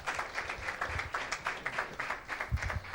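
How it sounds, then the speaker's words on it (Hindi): A church congregation gives a strong round of applause, a dense, steady clapping of many hands that continues throughout. "एक जोरदार ताली देते हैं परमेश्वर की महिमा के लिए"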